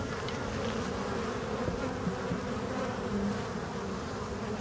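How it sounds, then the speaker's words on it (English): Honeybees swarm around an open hive in a dense, continuous buzzing drone that stays steady and close throughout. "a lot of these bees returning right here are bees that have been out in the field"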